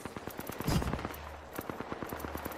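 Video game gunfire in a round-based shooter match, a steady stream of rapid evenly spaced shots running throughout at moderate loudness, with a heavier thump partway through and no talk over it.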